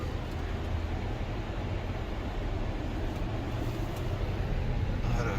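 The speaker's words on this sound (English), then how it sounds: "I had to accelerate a little harder to get up here" 2023 Range Rover long-wheelbase Autobiography climbing uphill off-road near Hoover: a quiet, continuous low engine and tire rumble that holds steady without a distinct rev rise.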